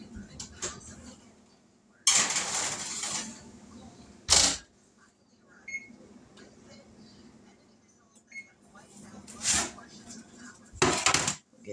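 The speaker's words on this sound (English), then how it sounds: "here's the first pan going in the oven" A baking pan of chocolate chip pecan cookies slides into a home oven with a few metallic clanks and rack scrapes spaced apart, heard close in a quiet kitchen.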